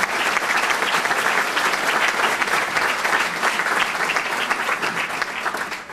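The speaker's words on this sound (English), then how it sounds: "Can we have a round of applause for those people?" An audience at a leadership prayer breakfast applauds steadily, loud continuous clapping from a full room with no letup throughout.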